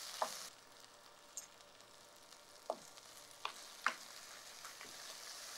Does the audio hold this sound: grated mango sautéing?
yes